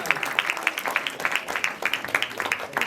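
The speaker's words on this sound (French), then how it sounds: "applaudissez-les une dernière fois" Audience applause after a stage performance, a close, lively patter of many clapping hands with distinct sharp claps standing out, continuing steadily without talk.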